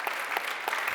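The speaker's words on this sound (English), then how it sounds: "a warm round of applause, please." An audience at a mobility workshop event claps warmly, a full, steady burst of applause with a few sharper claps standing out, heard alone.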